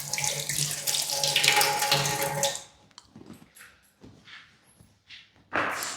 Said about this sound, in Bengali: চামচটা ধুয়ে আনি